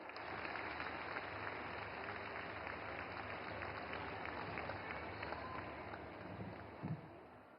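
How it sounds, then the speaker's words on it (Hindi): A large audience applauds steadily to welcome a government minister at a public project launch in Panipat, Haryana, with dense, sustained clapping from start to finish and a slight swell near the end. "तालियों से स्वागत करें माननीय मंत्री महोदया का"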